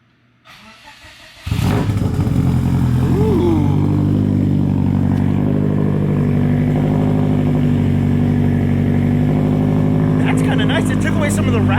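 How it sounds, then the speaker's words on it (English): A Subaru Legacy fitted with a full Vibrant titanium exhaust fires up after a short crank and settles into a loud, deep, steady idle with a slight throttle blip near the end, and voices murmur faintly under it. "Here's the first startup of the full Vibrant titanium exhaust in the Legacy from Ehter 1320."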